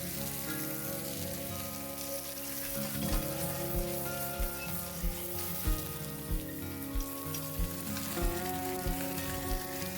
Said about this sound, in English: keep frying it until you no longer see any raw meat